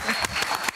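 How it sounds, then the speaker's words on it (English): Studio audience on an Australian breakfast TV show claps in a short, steady burst of applause, moderately loud and without speech. "Round of applause for Jack Whitehall"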